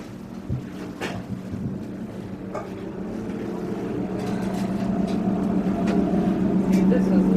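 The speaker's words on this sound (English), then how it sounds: "As we go back, we're going to walk by one of the engines." A diesel engine of the type used in locomotives hums aboard the Barbel-class submarine USS Blueback SS-581 in Portland, Oregon, a steady low drone that grows louder as someone walks past it, with a person talking over it.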